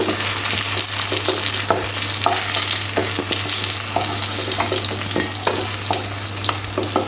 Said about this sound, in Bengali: এবার এই তেলের মধ্যে মাছগুলো ভেজে নেব